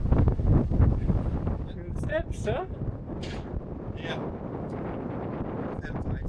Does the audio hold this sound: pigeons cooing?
no